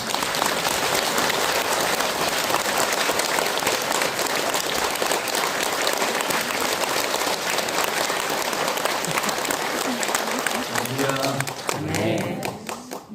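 Loud, sustained applause from a church congregation welcoming a pastor of Ulsan Hogye Church at a Thanksgiving special dawn service, dense clapping filling the room before a voice begins speaking near the end.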